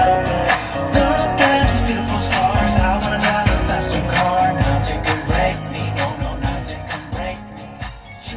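Music plays through the stereo of a 2023 Maruti Suzuki Dzire top model set to a rock sound preset, dense full-range band sound with steady punchy beats, loud and continuous throughout with no talking.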